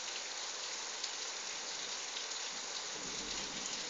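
Steady rain falls during a thunderstorm at a home, a faint, even hiss of drops on surfaces with no speech.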